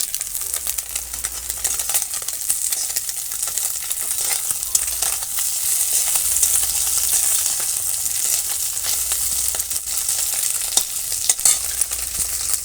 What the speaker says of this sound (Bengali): তেল দিয়ে পুঁটি মাছ কড়াইতে দিয়ে দিয়েছি কড়াইতে ভাজা